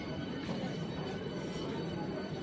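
Ambience on a platform at Krishnanagar station as an AC local train stands by, a steady broadband rumble and hiss with faint clanks and a low hum throughout.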